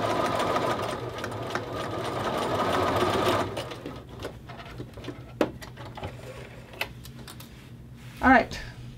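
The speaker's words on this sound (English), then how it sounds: "the collar has been edge stitched" A sewing machine edge-stitches a men's shirt collar, its steady motor hum running for about three seconds before stopping; scattered small clicks and handling taps follow, with one brief sharper rattle near the end.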